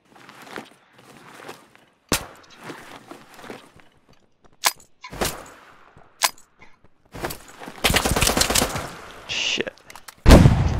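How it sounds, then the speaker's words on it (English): Gunfire and a grenade blast in a tactical shooter video game: sharp single shots ring out at intervals, then a loud sustained roar of explosion and rapid fire near the end, with players talking faintly between bursts. "A grenade."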